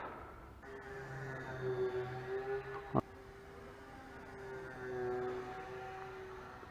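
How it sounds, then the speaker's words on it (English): A faint, low droning hum of a large plane passing overhead at a distance, with one sharp click partway through and no voices. "It's a big plane."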